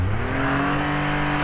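A motorcycle engine revs hard and steady at close range while the rider, a learner, slips the clutch, a loud sustained drone with a rising whine throughout.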